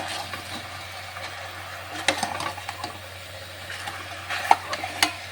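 Grated ginger and whole green chilies are stirred together in a pan, giving soft, scattered scrapes and a few sharper clicks over a quiet, steady background.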